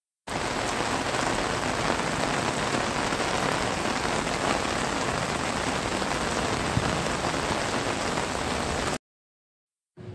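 Steady, heavy rain pours down without a break for about nine seconds, a dense and even hiss at close range with no voices, then it cuts off abruptly.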